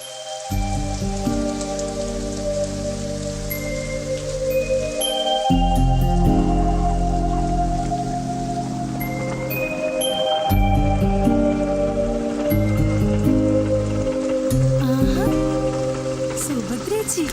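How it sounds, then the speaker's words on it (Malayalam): Heavy rain in a Malayalam film scene, a steady broadband hiss running the whole way beneath loud, sustained orchestral music, with voices briefly heard. "എന്തൊരു മഴ."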